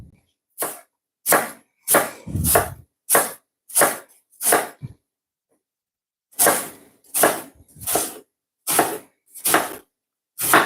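A knife chops an onion on a cutting board in evenly spaced, crisp, close strokes, about a dozen in two runs separated by a short pause.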